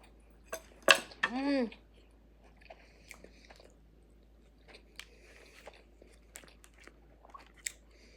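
Shrimp tempura being eaten, with a loud crunchy bite and chewing up close, then quieter chewing, faint clinks of cutlery and a few small mouth sounds.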